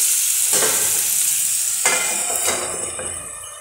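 Pineapple rice mixture cooking covered in a pan, giving a steady, close sizzle and bubbling hiss throughout, with a few soft scraping stirs and lid or utensil bumps.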